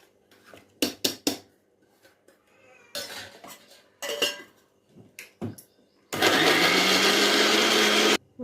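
Pepper, cumin and coriander seeds grind into spice powder in a kitchen mixie. Jar clatter and short rattling pulses come first, then a loud, steady whir of the mixer grinder that runs for about two seconds near the end.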